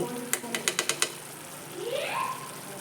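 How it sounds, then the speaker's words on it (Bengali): Duck egg curry gets stirred in a pan, starting with a quick run of about six sharp scraping taps of the spoon, then a softer, rising sizzle as the pan cooks on, close and fairly quiet. "এটা একটু নাড়িয়ে দেব"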